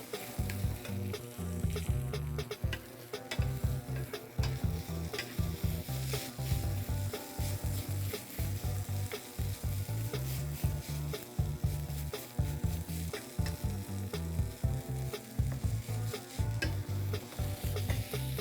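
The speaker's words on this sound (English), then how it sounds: "It's sizzling nice now." Food sizzles and crackles steadily in a hot pan, a dense continuous frying hiss with stirring scrapes, no voices.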